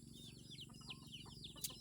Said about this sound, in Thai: เสียงเป็ดเสียงไก่ขอโทษขออภัยนำพี่น้อง